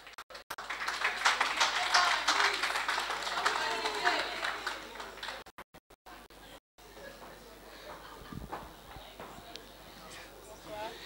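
Audience at the Miss Francophone d'Afrique pageant applauding the first runner-up, a dense steady clapping that swells over several seconds and then thins to scattered claps, with a voice speaking over it.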